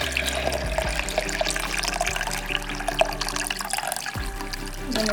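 Steady water pouring into a blender with a continuous splashing rush, close and fairly loud, a brief thud near the end.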